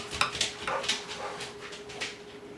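A dog gives several short, high yelps and whimpers in quick succession, moderately close, with a faint steady tone in the background.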